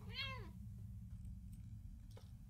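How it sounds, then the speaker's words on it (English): A cat meows once in the Impostor Factory video game, a short rising-and-falling call at the start, heard clearly over a steady low background hum before fading out. "Okay, we get the cat."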